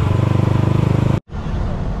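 Road traffic crawls toward the Santa Maria bridge in Bantog, Asingan, a close, steady rumble of vehicle engines that cuts out abruptly for a moment before resuming.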